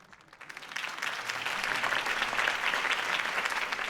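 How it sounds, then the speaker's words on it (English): Applause from a crowd at a political campaign speech in Batman The Telltale Series swells from scattered claps into a dense, sustained ovation that holds steady and loud. "could have heard that applause"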